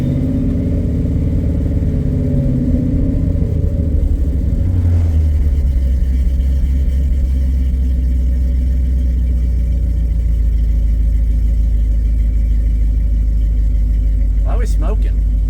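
A Plymouth Cuda with newly done suspension pulling off on a test drive, its engine a loud, steady low rumble that holds throughout, with a brief high squeal near the end.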